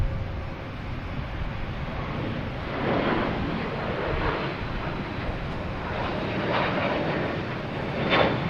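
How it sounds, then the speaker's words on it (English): An Aer Lingus Airbus A330 from Dublin comes in to land at Boston Logan, a steady engine roar with wind buffeting that swells and fades a little, heard from a distance with no talk. "we have Aer Lingus coming in from Dublin, an A330"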